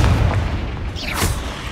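A Confringo fire spell bursts in Hogwarts Legacy, a loud booming blast with a bright whooshing streak as it hits, short and close amid ongoing combat rumble.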